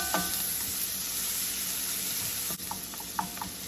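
Butter melts and sizzles in a pan over medium heat, a steady close frying hiss with a few small pops and a brief clink near the end, no talking.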